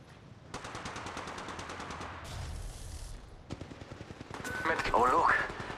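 Rapid automatic gunfire rattles through an Apex Legends Mobile firefight, bursts of evenly spaced shots followed by more scattered fire, with voices and game effects layered over the shooting.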